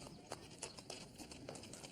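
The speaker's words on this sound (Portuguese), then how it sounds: "Ele viajou a cavalo e de carruagem," Horse hooves clip-clop steadily while pulling a carriage, a rhythmic series of hoofbeats heard at moderate distance, fairly soft against faint background noise.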